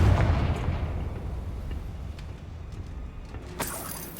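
A Confringo fire spell bursts in Hogwarts Legacy with a heavy booming explosion up front, then a fading rumble with a few faint crackles and a sharp hiss near the end.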